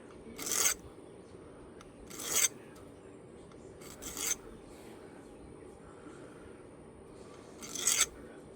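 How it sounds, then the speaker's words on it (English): A metal file rasps along the edges of a piece of jewelry in four short, separate strokes, each a close scratchy burst with quiet gaps between them. "Then we'll take our metal file here and kind of get these"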